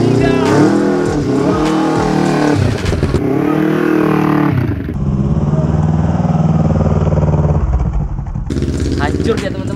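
A motorcycle engine idles and revs loudly nearby as the bike rolls over an egg, with engine tone shifting through a few throttle changes; no clear crack stands out.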